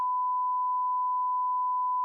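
A steady censor beep tone covers a spoken phone number, one unbroken, pure, loud bleep lasting about two seconds with nothing else audible.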